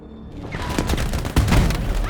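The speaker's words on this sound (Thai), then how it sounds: "โอ้โหโดนระเบิดลงว่ะ" A Battlefield V explosion booms loudly amid rumbling battle noise and scattered gunfire.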